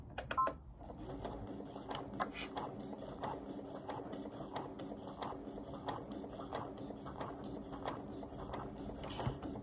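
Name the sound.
sewing machine stitching quilt fabric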